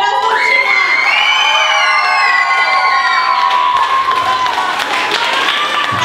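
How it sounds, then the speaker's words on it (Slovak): Audience at a Bratislava talent show cheers and shouts loudly, with whooping voices and applause blending into a steady roar that lasts throughout. "S veľkým potleskom si s ňou rozlúčila!"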